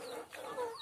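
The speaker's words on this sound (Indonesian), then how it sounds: "menikmati suasana kandang dengan ayam-ayam kita" Backyard-coop chickens give a few soft, faint clucks in quick succession at close range, with no voices over them.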